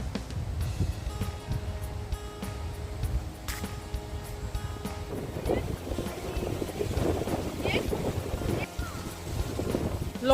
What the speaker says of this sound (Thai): เพื่อนๆค่ะลมแรงมาก